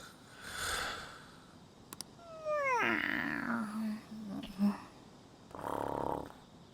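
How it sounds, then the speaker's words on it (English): A snoring character in Persona 5 Strikers gives one loud, drawn-out snore with a sliding, snorting pitch, followed by a softer rumbling breath later on, set among game sounds and voices. "That is snoring."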